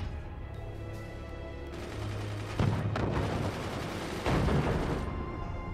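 Weapons firing in the strategy game Forts, a series of deep booming shots and rattling bursts layered over a steady rumble, loud and close, with several heavy impacts standing out.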